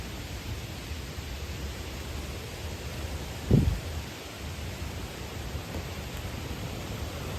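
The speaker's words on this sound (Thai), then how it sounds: "พี่พี่พี่พี่ได้ยินเสียงน้ำป่ากันไหมครับ เสียงน้ำป่าเนี่ยแบบว่า แรงมากๆเลยนะ" A steady, broad rushing roar of floodwater fills the whole stretch, with one brief thump partway through.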